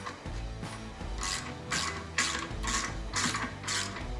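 A ratchet tightens the muffler clamp on a Harley Davidson slip-on exhaust, making a run of quick, close clicking bursts in a steady back-and-forth rhythm.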